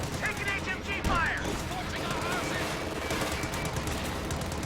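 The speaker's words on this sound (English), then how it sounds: "And two MGs here locking down the center of the map right now" Machine gun fire from two MG teams in a Company of Heroes 2 1v1 match, US versus German forces, sounding as a steady dense crackle of bursts within a busy battle mix, with a voice talking over it.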